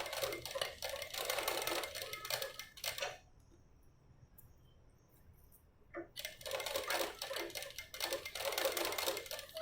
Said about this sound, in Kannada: ಆದಷ್ಟು ನಿಧಾನಕ್ಕೆ ನೀಟಾಗಿ ಸ್ಟಿಚ್ ಮಾಡ್ಕೊಂಬನ್ನಿ